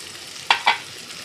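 A spoon scrapes twice through a mango mixture in a pan after turmeric goes in, two quick close strokes over a faint background sizzle.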